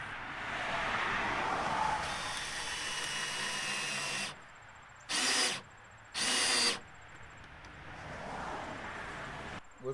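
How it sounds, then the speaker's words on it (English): Power drill boring pilot holes for a gate handle above the latch on a six-foot fence panel gate, several close, loud bursts of whirring, the longest running about four seconds, followed by two short distinct spurts with quiet gaps between. "we're going to drill some pilot holes that goes right over the top of the latch"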